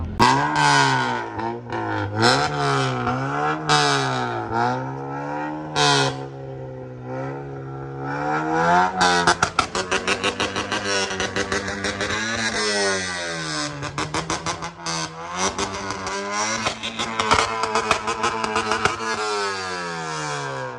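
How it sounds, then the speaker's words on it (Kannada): A modified Honda Civic fitted with a Samurai Performance banger kit revs repeatedly, loud and close, with rising and falling engine notes and a burst of rapid crackling pops from the exhaust. "ಬ್ಯಾಂಗರ್ ಕಿಟ್ ಸೌಂಡ್ ಕೇಳಿಸ್ಲೇಬೇಕಲ್ವಾ, ಬನ್ನಿ ಕೇಳಿಸ್ಕೊಳ್ಳೋಣ"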